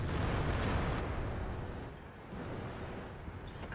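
An IS-3 heavy tank fires its cannon in World of Tanks, a loud, broad blast at the start that fades into a sustained rumbling tail, with no talk.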